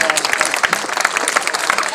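An audience at a village fair eating contest gives the contestants a burst of close, dense clapping that runs for about two seconds, with voices mixed in.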